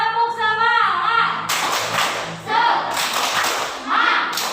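Schoolchildren in a classroom performing a rhythmic group clapping chant, sharp loud unison claps in patterned bursts alternating with shouted sung voices.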